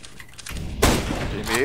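Gunfire in Counter-Strike: Global Offensive, a sudden loud burst of rapid shots that cuts in midway and keeps going with dense, crackling impacts, preceded by quieter game noise.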